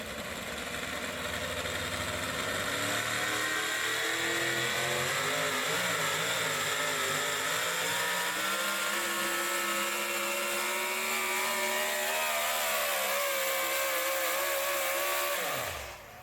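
A pulling truck at an NTPA truck and tractor pull in Brandenburg, Kentucky, its engine roaring hard and steady through the run with rising and wavering harmonic whine, then cutting off abruptly at the end, loud and close, with no talking.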